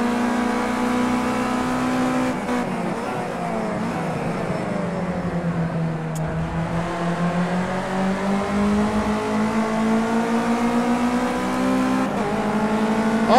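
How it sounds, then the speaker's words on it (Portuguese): A race car engine in the video game Project CARS 2 hums and revs steadily, its pitch dipping and rising through gear changes, loud and close with no voices. "Tô ouvindo um barulho de carro, achei você."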